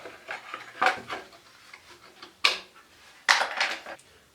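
Close, faint plastic and metal clicks and scrapes as the air filter lid comes off a Honda-clone GX160/GX200 generator engine, a few sharp knocks among softer rubbing sounds.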